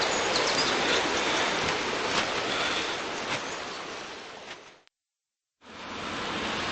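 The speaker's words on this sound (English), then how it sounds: "it started raining quite badly now, and we were getting very wet" Heavy rain pours down outdoors by a river, a steady, loud, dense hiss that fades slightly before a brief total silence, then resumes.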